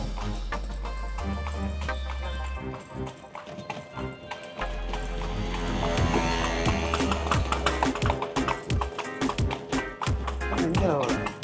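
Horse-drawn carriage in Cuba, hooves clip-clopping in a steady rhythm on the street, close and fairly loud, with passing street noise and some background voices.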